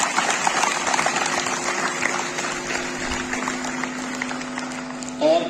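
Applause at a school personality development workshop as a student's name is called, sustained dense clapping from an audience throughout, with a faint voice and a brief louder burst near the end.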